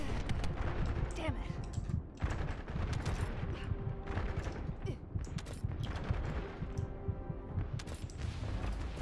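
Rapid automatic gunfire from the shooter game The First Descendant rattles almost without pause, loud and dense with brief gaps, while someone talks over it.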